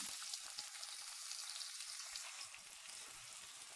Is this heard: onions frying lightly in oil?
yes